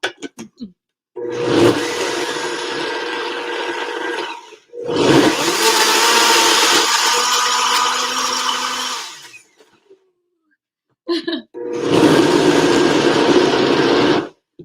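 An electric blender whirs through a thick sweet potato kheer mixture in three long, loud bursts, each running several seconds with a strained, churning roar, separated by brief pauses of near silence.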